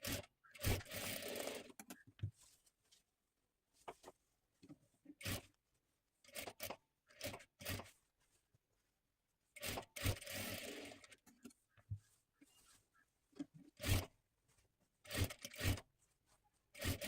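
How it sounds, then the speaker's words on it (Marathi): A sewing machine double-stitches the seam of a saree with a woven border, running in short, irregular bursts of rapid mechanical chatter separated by quiet pauses, close by with no talking. "डबल शिलाई देऊन घ्यायची आहे"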